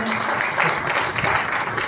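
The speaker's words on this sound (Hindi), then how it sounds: "सबके लिए जोरदार ताली हो जाए" Applause from an audience gathered in a hotel banquet hall at a business event, continuous clapping for the whole stretch with some crowd murmur beneath.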